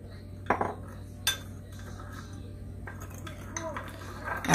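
A spoon clinks against a bowl while stirring yeast, sugar and warm milk together, with a few sharp metallic taps spaced apart over a quiet kitchen hum and light scraping between them.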